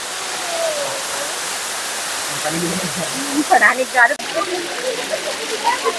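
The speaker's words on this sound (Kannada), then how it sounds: "ಸ್ವಲ್ಪ ಮೇಲ್ಗಡೆಯಿಂದ ಬರುತ್ತದೆ ಇಲ್ಲಿ ನೀರು" Water falls from above at Paladhara Panchadhara, a sacred spring shrine at Srisailam, giving a steady, soft hiss of trickling and splashing water with someone speaking over it.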